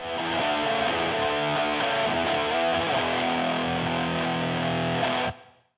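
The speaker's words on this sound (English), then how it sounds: "The distortion pedals range from classic treble booster to vintage fuzz to more modern saturated overdrive." A heavily distorted electric guitar played through Logic Pro distortion pedals, ranging from treble booster and vintage fuzz to saturated overdrive. A dense, loud, sustained wall of fuzzy chords runs steadily for about five seconds, then cuts off abruptly.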